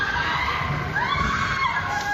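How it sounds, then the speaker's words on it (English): Screams and shouts of a crowd echo through ordinary streets of Tehran during explosions and airstrikes: a dense, loud wall of overlapping cries with shrill wails rising above it throughout. "Screams echo across the ordinary streets of Tehran."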